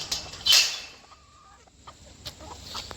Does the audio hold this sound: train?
no